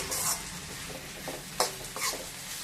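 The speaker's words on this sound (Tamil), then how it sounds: "இப்போ இந்த வெங்காயம் போட்டுடுறேன் நல்லா வதங்கணும்" Onion sautés in a pan for a karunai kizhangu fry, a close soft sizzle broken by a few scraping stirs and light clinks.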